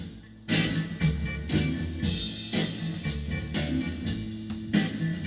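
Music playing back off tape on an Akai GX-266D reel-to-reel deck with re-capped audio boards, a steady beat with regular accented hits, moderately loud and continuous with no talk.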